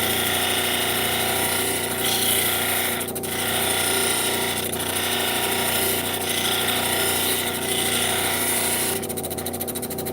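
A polishing machine works the girdle of a gemstone, giving a continuous buzzing mechanical whir with a steady rumble beneath and a few faint periodic scraping swells, close and unbroken throughout.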